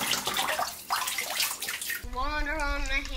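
Water splashes and pours in a bathtub as a toy is played with, a busy wash of splashing, with a voice rising in a sing-song tone near the end.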